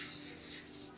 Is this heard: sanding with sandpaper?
yes